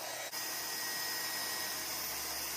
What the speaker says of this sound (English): I'm just gonna use my mini heat gun to dry that blue paint quickly.